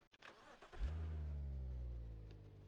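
A Land Rover Defender petrol engine in a driving game cranks briefly, catches and settles into a steady low idle, heard alone and fairly quiet.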